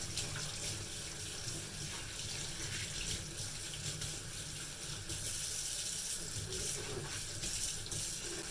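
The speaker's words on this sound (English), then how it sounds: "So I'm always washing my hands." Tap water runs steadily into a kitchen sink while hands are washed, a close, continuous splashing rush that stays even throughout with no voices.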